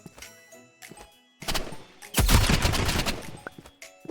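Paint gun shots in a Roblox video game, a few sparse clicks and then a loud burst of rapid repeated shots with clattering impacts in the second half.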